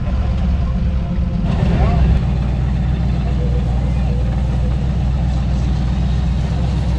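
A blown truck engine with superchargers roars steadily during a burnout contest, stuck in four-low, a loud, sustained, close-up drone that barely changes over several seconds.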